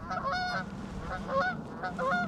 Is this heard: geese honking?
yes